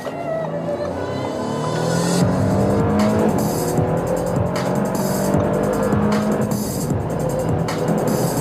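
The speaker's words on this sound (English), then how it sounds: "nice acceleration from the 3-liter 6-cylinder engine" A car with a 3-liter six-cylinder engine in sport mode pulls hard along a motorway toward about 200 km/h. The engine note swells loud and close as the revs climb, with tire and road roar underneath.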